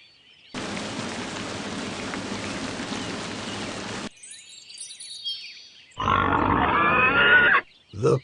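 Low, rough pig grunting from a children's farm-animal video game runs steadily for a few seconds, then a higher squealing burst follows after a short pause, loud and close.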